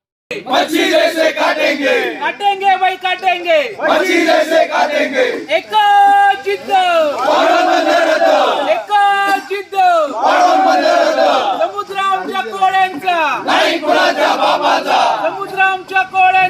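A large crowd of villagers in Dhakti Dahanu loudly chants slogans in rhythmic call-and-response bursts against the Vadhavan port, many voices shouting together in continuous waves close to the microphone.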